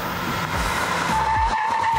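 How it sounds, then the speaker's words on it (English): A car brakes hard with ABS on a rubbered test strip, its tyres skidding and squealing in a loud, continuous rush with pulsing low rumble as the vehicle slows. "We're braking in the same spot."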